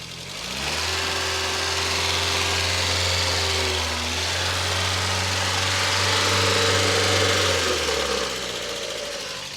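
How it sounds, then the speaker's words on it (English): Close-up idling 1981 European VW Golf GTI engine with a steady rapid valve-train ticking and clatter over a low rumbling hum, running evenly with no speech. "Listen to the valve train."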